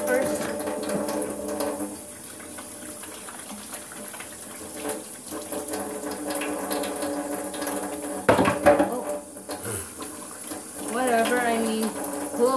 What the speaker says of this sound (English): So we're going to turn on the water. I'm going to wash my hands first.